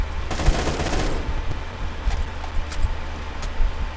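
AK-12 rifle gunfire in the Phantom Forces video game, with a dense rapid burst early on followed by scattered single shots and game ambience, loud and close with no talk.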